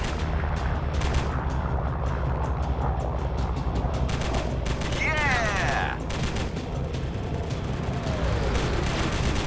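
Machine gun fire in the aircraft combat game Squadron 303 rattles in dense, overlapping bursts over a steady engine roar, loud and continuous throughout with no pause.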